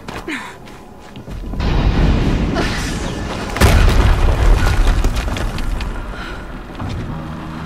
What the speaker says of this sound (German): Noch eine Explosion.